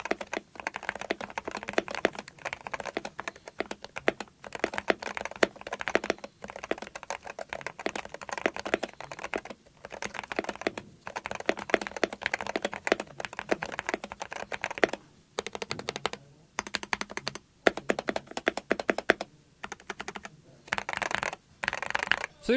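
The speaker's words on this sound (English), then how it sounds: "head straight into the typing test so you guys can hear this exact keyboard in its stock configuration" A stock Wooting 60HE keyboard clatters through a steady typing run, dense rapid keystrokes with brief pauses, close and clear with no voices.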